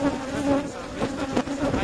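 Agitated wild African honey bees swarm close around a beekeeper's veil at a top bar hive in Uganda, a loud, dense, wavering buzz that rises and falls over a couple of seconds with no talking.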